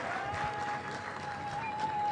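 Applause greets the Vice Chancellor at Pwani University during the International Youth Week launch, steady moderate-loud clapping from a large crowd that continues unbroken for about two seconds under a faint tonal hum.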